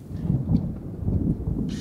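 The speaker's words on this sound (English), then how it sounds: "Do you think we're gonna beat the storm?" Low rumbling thunder from an approaching storm rolls continuously under wind buffeting the microphone outdoors in Nova Scotia, fairly loud with no speech.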